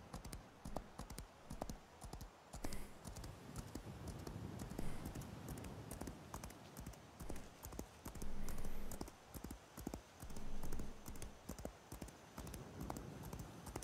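A horse gallops in a video game, its hooves giving a quiet, continuous clip-clop rhythm with occasional louder surges, heard alone without talk.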